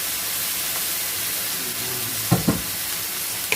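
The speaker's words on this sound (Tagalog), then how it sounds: "Tapos ilagay na natin ang ating ampalaya." Bitter melon sizzles as it fries in a pan, a steady hiss of hot oil with a few brief clacks of utensils partway through.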